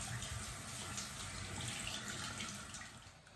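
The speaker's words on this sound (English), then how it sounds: "Now I have to rinse it with warm water." Warm tap water runs steadily into a sink as a face is rinsed, a continuous close splashing hiss with no talk.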